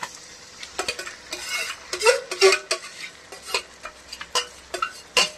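Marinated mutton coated in stone-ground spice paste is tipped into a hot kadai and stirred, giving repeated close scraping and clattering strokes over a light sizzle.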